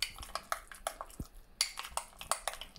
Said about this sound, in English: Okay, I'm stirring it up.